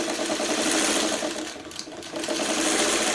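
A sewing machine stitches quilt pieces together in one continuous, close, buzzing run with a brief slight dip midway.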